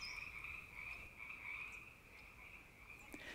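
Frogs croaking steadily in a forest canyon in spring, a continuous pulsing chorus with faint bird and insect calls mixed in, no voices.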